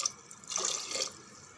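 Tap water pours into a pot of soaking chana dal and dried red chillies in a home kitchen, a short steady splashing stream that swells and then stops, with no one talking.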